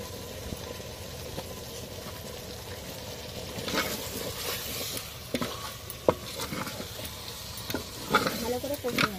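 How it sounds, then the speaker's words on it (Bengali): Spiced meat sizzles in a pan as it is sautéed, with a steady frying hiss and repeated spatula scrapes and clanks against the metal. "ভালো করে কষিয়ে নেবেন।"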